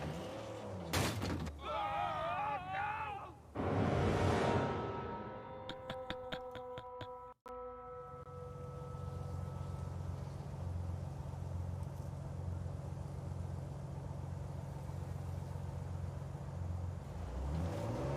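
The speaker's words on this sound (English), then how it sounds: "Here's a clip of you driving the Jeep." A Jeep in the Uncharted 4 video game is driven with a rising engine roar and mechanical clanks, followed by a quieter, steady low rumble over ambient game sound.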